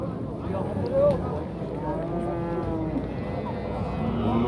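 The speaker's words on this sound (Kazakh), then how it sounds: "Мына сүт сиырлар сұрағандарға осы." Dairy cows, including Simmental cattle, moo in long drawn-out calls at a bustling livestock market, with voices murmuring in the background and a constant crowd din.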